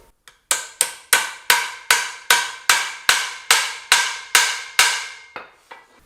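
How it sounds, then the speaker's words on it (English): Hammer blows driving new U-joints into the drive shaft of a barn-find Oldsmobile, about a dozen sharp metallic strikes at a steady, even pace, each ringing briefly, close and loud with no talk. "with nothing more than a hammer and a torch, we have new U-joints in our drive shaft."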